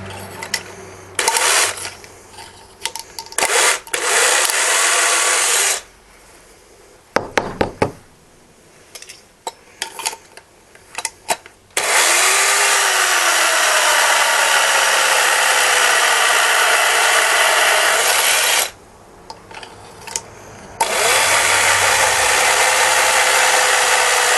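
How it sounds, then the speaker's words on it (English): A power drill whines loudly in several long bursts, grinding through a plastic blaster barrel, with stops and clattering handling noises between runs. "You'll just put it right down the barrel, set it in the inside, and start drilling"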